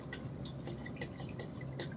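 Water poured onto an OPPO F27 Pro Plus phone gives a close, continuous trickle with small dripping splashes over a low background hum, quiet and steady throughout.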